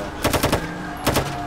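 Video game gunfire as vehicle occupants shoot out the back: two quick rattling bursts of automatic shots, the first four rapid rounds, then a short pause and two more, loud and close.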